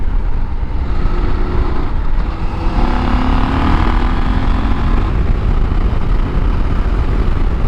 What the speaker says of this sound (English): Got a pretty good exhaust note, not the best, it's okay